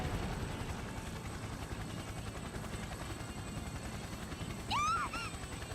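A helicopter in Persona 4 Arena Ultimax gives a steady, low rotor drone throughout, with a brief rising synthetic tone near the end.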